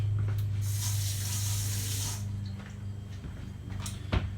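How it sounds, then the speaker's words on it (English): Water runs steadily from a kitchen tap over a glass canning jar being rinsed, a continuous close hiss and splash that eases off after about two seconds, followed by a few clinks near the end. "Let me rinse this off."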